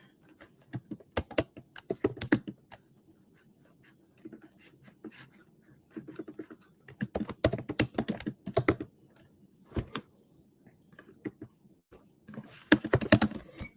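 Rapid bursts of typing on a computer keyboard, close and crisp, coming in several clusters of key clicks separated by short pauses, with no speech.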